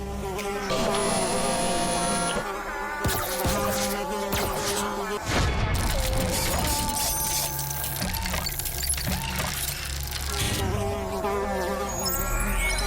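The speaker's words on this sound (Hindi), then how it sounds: "फिर एक मक्खी" A housefly buzzes steadily and closely throughout, its drone running over loud background music and sound effects from an animated superhero scene.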